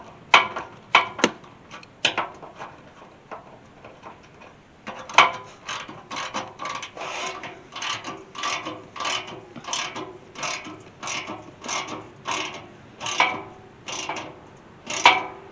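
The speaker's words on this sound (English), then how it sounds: "Bolt it back here on the camper." A hand ratchet bolts a shiny, freshly painted, reinforced bumper back onto a camper, giving a few separate clicks and then a steady run of sharp, close, regular ratcheting strokes with no talk.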